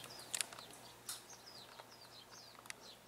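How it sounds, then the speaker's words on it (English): Wild birds such as quail, doves and jays gather at morning feeding time, giving a few sharp chirps and short calls, some close and some farther off, over quiet background ambience. "We got all kinds of birds."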